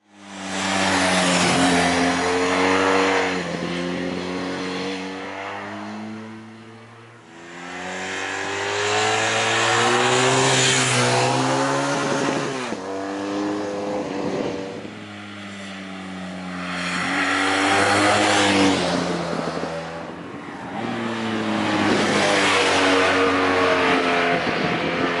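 A motorcycle fitted with Metzeler Tourance Next 2 tires rides on asphalt, the engine rising and falling through repeated accelerations and gear changes, loud and steady with no talk.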